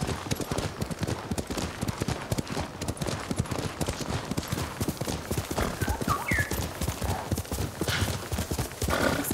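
Steady video-game horse hooves clip-clop in a quick, even rhythm, with a brief whinny partway through.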